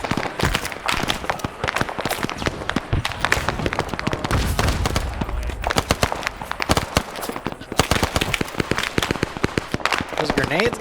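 Grenades exploding in a Vietnam-era SOG helicopter-crew rescue game scenario, heard as dense, continuous crackling bursts and thuds of battle noise, with voices talking over the din.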